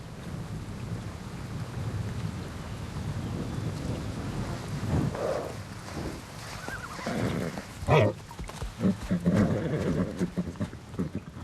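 Violent summer thunderstorm with rain in a natural forest in Portugal, a constant wash of rain with deep rolling thunder, joined late by a nearby horse whinnying and snorting.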